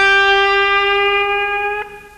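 A single sustained electric guitar note, bent slightly sharp to between the minor and major third, rings out with bright harmonics and slowly fades, with a faint pick noise near the end.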